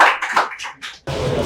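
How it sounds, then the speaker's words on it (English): A group discussion audience breaks into brisk, dense applause that starts abruptly after a short burst of voices and carries on to the end. "Please give a huge round of applause."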